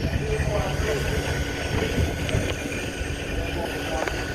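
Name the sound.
vintage steam engine running at Great Dorset Steam Fair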